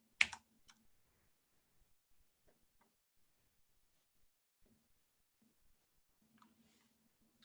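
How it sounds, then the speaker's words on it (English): Computer keyboard typing during a game development session: one sharp burst of key clicks, then sparse quiet taps spread across a near-silent background. "I know what I'm typing, so I can type it really fast"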